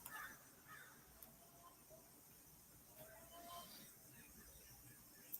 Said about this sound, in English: Here are the crows.